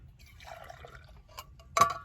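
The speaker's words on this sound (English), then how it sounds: "I'm going to pour this into my mug" Campfire percolator coffee is poured into a Yeti mug in a minivan, with a quiet liquid trickle and a few drips, then a sharp, brighter splash or clink near the end, with no voices.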